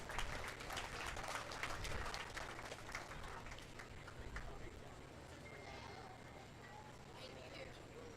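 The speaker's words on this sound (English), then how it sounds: "Let's give all of our exhibitors a nice round of applause" A crowd at a county fair sheep and goat show claps for the exhibitors, a brisk, fairly even patter that is strongest early and slowly fades while talk continues over it.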